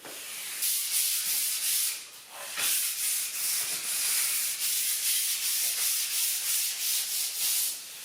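Hand sanding of a wooden worktop with 180-grit sandpaper being prepared for resealing with oil: steady back-and-forth rubbing strokes in an even rhythm, close and fairly loud, with brief pauses between passes and no talking.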